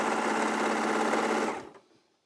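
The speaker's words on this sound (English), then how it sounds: "So I'll sew five of these together, because then you can see what a half Dresden looks like." A sewing machine stitches quilting fabric pieces together for a half Dresden plate, a fast, steady mechanical whirr up close that runs for about a second and a half, then stops abruptly and fades to quiet.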